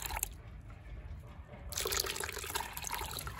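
Water poured into a container holding a liquid fertilizer mixture, a steady close splashing flow that swells louder partway through and keeps running to the end, with no talking.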